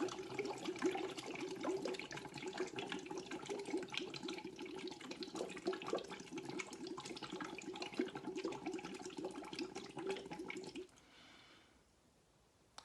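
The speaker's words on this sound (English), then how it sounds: "is to blow bubbles into that glass of water" Steady bubbling as someone blows through a straw into a glass of water, a close, continuous burbling that runs about eleven seconds and then stops, leaving near silence.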